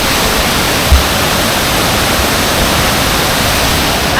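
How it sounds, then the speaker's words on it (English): A large waterfall near a bridge in Chiang Mai roars steadily and loudly at close range, a dense unbroken rush of falling water with no voices. "there's a bigger waterfall."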